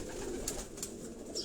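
Pigeons belonging to a household in Lahore coo softly and steadily for a moment, a low murmuring that stays faint and continuous with no voices over it.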